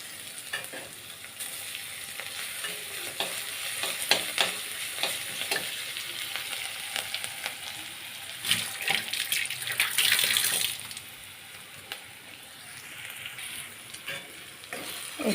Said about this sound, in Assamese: এতিয়া আদা নহৰু পেষ্টখিনি পিয়াজৰ লগত মিক্স কৰি ভাজি লওঁ অলপ